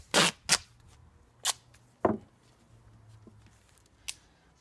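Duct tape being pulled and torn while being taped under the lip of an Earth Box self-watering planter pot, with a few sharp ripping snaps spaced irregularly, close and clear, with no talk.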